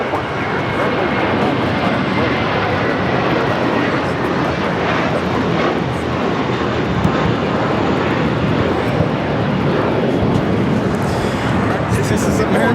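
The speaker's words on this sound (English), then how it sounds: "This is American Airlines Flight 274 taking off to JFK on the A321." American Airlines A321 jet taking off from Los Angeles airport bound for JFK, a loud sustained engine roar holding steady throughout while people talk over it.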